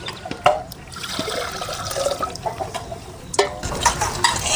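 Half a pot of water poured into a cooking pan on the stove, a continuous splashing gurgle close by, rising and falling over a few seconds with no talk.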